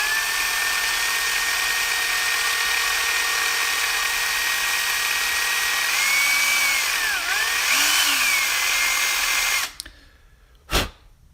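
A power drill with a dull bit whines continuously, its pitch bending as it labors against the material, then cuts off abruptly, followed by a brief thump.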